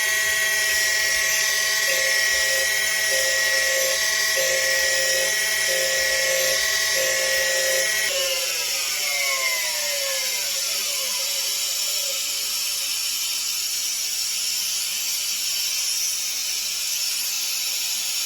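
A bench grinder grinds metal in a home shop, a loud continuous high whine that holds steady and then shifts as the pitch slides downward while the grinding continues.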